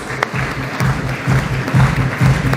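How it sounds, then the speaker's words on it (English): Warm applause from a business conference audience welcoming the Outlook Business editor onto the stage in Mumbai, uneven claps over a low hum, with some murmured voices beneath. "let's welcome her with a warm round of applause"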